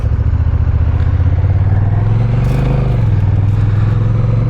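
A Honda Rebel 1100 DCT SE motorcycle with an automatic dual-clutch transmission pulls away, its engine loud and close, and its pitch rises and then dips as a gear shifts, with no talk.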